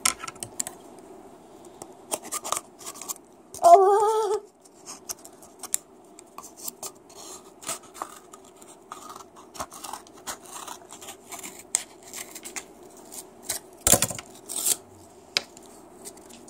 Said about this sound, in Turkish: Ama ilk önce kartonu birazcık keseceğim.